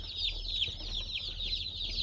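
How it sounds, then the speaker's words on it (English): Many young Freedom Ranger meat chicks cheep continuously in a busy chorus of high peeps, close by, with a low hum underneath. "So these are the Freedom Ranger, the Red Ranger, their variety of the Red Ranger roosters."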